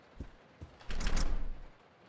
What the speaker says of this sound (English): The door to the dining car is locked.